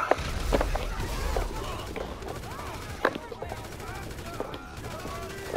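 Rapid bursts of gunfire with incendiary rounds in GTA Online, sharp cracks and short volleys scattered over several seconds with one louder shot near the middle, amid game noise and background voices.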